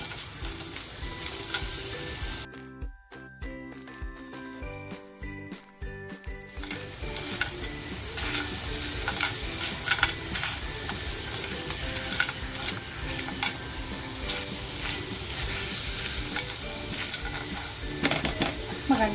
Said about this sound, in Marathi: आता ज्या शिंपल्या घेतल्यात ना त्या शिंपल्या मी याच्यात टाकून घेतो